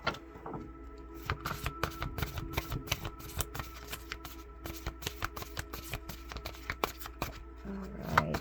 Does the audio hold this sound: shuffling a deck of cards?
yes